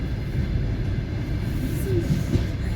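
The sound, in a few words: clatter of wheels of train 146 Dunai, Izmail-Kyiv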